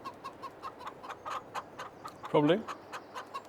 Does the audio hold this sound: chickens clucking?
yes